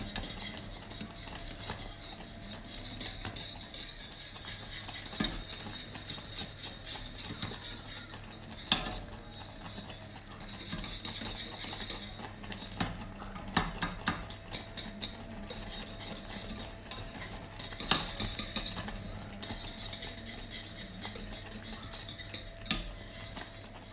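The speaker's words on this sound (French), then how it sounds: "Je vais encore fouetter 1 minute ou 1 minute 50." A whisk clinking and scraping steadily against a metal pot while a semolina dessert is stirred, a quiet continuous tapping rhythm with sharper clinks now and then.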